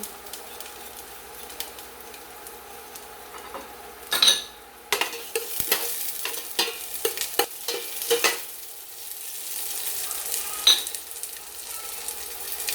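Onion and garlic sauté in a pan with a soft, constant sizzle, broken by several bursts of spoon-scraping and stirring, heard up close.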